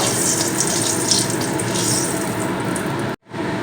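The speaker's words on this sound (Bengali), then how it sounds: "তো তেলের মধ্যে আমি আট থেকে দশ সেকেন্ডের মধ্যে নেড়ে নেব" Whole spices, cardamom and cumin seeds, are stirred in hot oil, a dense, steady sizzling hiss filling the moment until it cuts off abruptly near the end.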